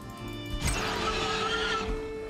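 A pig in the video game Valheim lets out one loud, harsh squeal lasting about a second, rising over steady background game sound.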